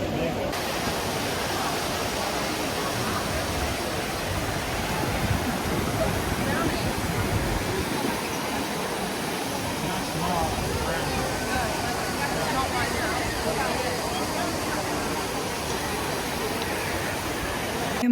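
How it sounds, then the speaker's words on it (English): The Trevi Fountain in Rome, water splashing and rushing as a steady, dense roar that holds evenly throughout, with a voice speaking faintly beneath it. "here I am at the Trevi Fountain"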